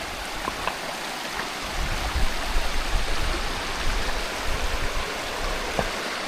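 A shallow, cold, glacier-fed mountain stream rushes steadily over rocks, a close and continuous broadband wash of water with no voices.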